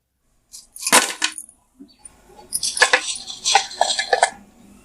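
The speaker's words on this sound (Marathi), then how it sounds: "आता एका प्लेट प्लेटमध्ये मी काढून घेणार आहे" Light clinks and scrapes of fried vegetarian pieces being transferred onto a plate, in short irregular bursts with brief quiet gaps.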